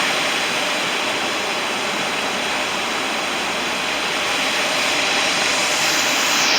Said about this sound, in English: I don't even know if you can hear me over the freaking rapids